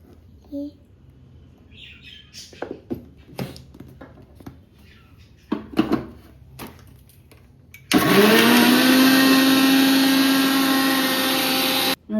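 A kitchen mixer grinder whirs loudly and steadily as it grinds green chutney of chillies and salt, starting abruptly after scattered quiet clatter and cutting off right at the end.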